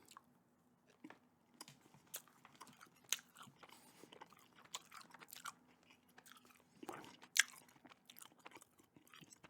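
Close-up gum chewing for ASMR, soft wet smacks and clicks repeating irregularly throughout at low volume, with no talking.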